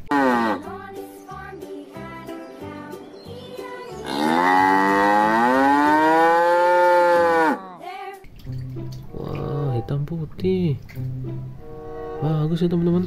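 Cattle moo in a video game, a long drawn-out lowing call standing out clearly, with other game animal sounds and background music around it.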